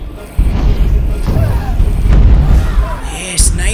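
Fireballs thrown in the VR game The Wizards: Dark Times, loud booming blasts over a continuous rumbling game soundtrack, with a brief sharper burst near the end.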